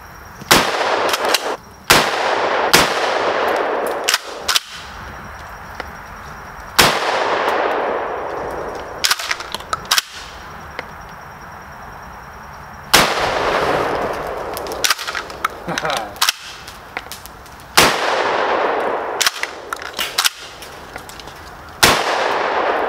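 Loud 12-gauge shotgun blasts fired outdoors at pumpkins, about a dozen sharp booms with ringing decays, some in quick pairs and others spaced several seconds apart, each followed by a pause.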